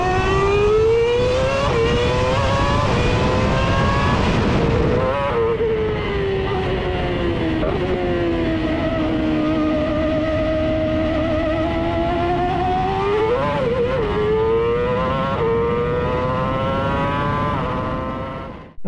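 A loud, high-pitched Formula 1 car engine screams continuously, its pitch rising and falling as it revs and shifts, with a brief dip midway.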